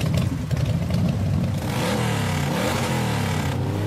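A motorcycle with a sidecar pulls away, its engine revving up with rising, clattering pitch sweeps over a few seconds, close and fairly loud.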